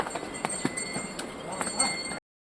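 Mules and horses on the walking path from Janki Chatti village up to Yamunotri, hooves clip-clopping in an uneven, scattered rhythm at moderate distance, with faint background voices.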